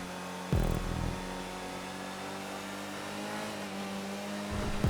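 A V8 car engine revs in a GTA racing game, holding a steady droning tone with a couple of sharp rev rises near the start and the end.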